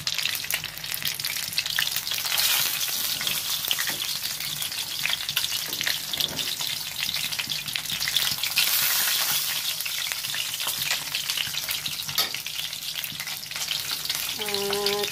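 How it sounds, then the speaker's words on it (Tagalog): Chicken fries in a pan with a dense, steady sizzle and crackle that holds for about fifteen seconds, close and even with faint stirring, no talking. "Piniprito ko na siya."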